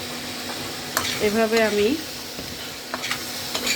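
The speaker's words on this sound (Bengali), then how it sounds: "ভালো করে তরকারিটা ভেজে নিব," Curry with ginger paste frying in a pan with a soft, steady sizzle, while a utensil scrapes and stirs now and then. A voice speaks briefly partway through.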